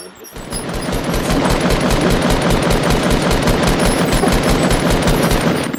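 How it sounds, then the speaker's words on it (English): Rapid automatic gunfire in Fortnite mobile, played on iOS, with bullets hitting the player: a dense, loud, continuous burst of shots that barely lets up for several seconds. "They just wrecked you with bullets."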